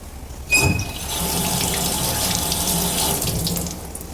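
Cold tap water runs steadily from a kitchen faucet over a pot, starting abruptly with a splash and continuing as an even, close, fairly loud rush while the pot is rinsed during kitchen kosherizing.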